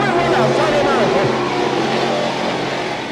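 Sportsman stock cars roar through the final lap of a race at Autodrome Drummond, with a loud, continuous, overlapping engine drone that eases slightly toward the end.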